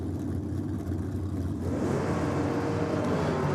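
Two Top Fuel dragsters launching from the start line at an Australian Top Fuel Championship round: a loud, sustained engine roar that surges and thickens partway through as the cars pull away, with no talk.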